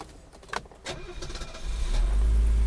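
A Mercedes W123 280TE with a freshly repaired fuel distributor is restarted warm, giving a short crank with light clicks before the engine catches quickly and settles into a smooth, loud, steady idle.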